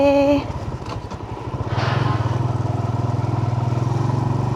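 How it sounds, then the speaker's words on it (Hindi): A motorcycle rumbles close by as it is ridden into a parking spot, its engine idling in a steady, rapid low throb after a brief revving shift near the start; no talking. "यहाँ पे हम अपनी बाइक लगाएंगे पार्किंग पे।"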